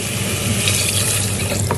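Water is poured steadily into a pot of rice for smoky party jollof, a continuous close splashing gush with no break, and no voices over it.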